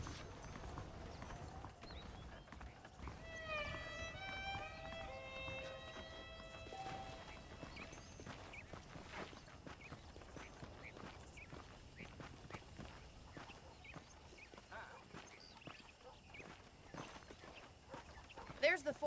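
Steady clip-clop of horse hooves at a walking pace, mid-distance, with a short burst of chiming tones early on and ambient game noise underneath, in Red Dead Redemption on PS4.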